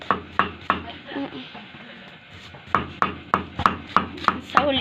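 A knife slices bamboo shoots thinly on a board, giving sharp, evenly spaced chopping taps, a few early and then a steady run near the end, with people talking over a quieter middle stretch.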